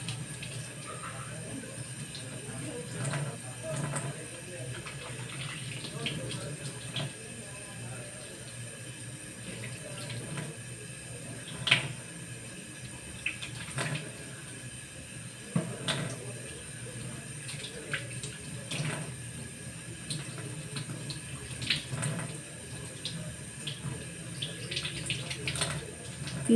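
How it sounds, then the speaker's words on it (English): Running tap water pours steadily over hands being rinsed during a medical handwashing demonstration, a close, even wash with soft splashes and small clicks throughout. "we will rinse our hands thoroughly and inspect for remaining dirt and soap using running water"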